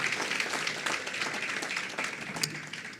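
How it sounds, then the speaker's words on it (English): An audience at a credit union's annual meeting applauds, a soft, steady wash of clapping heard from a distance and sustained for the whole stretch without talk. "Just if you could, a round of applause."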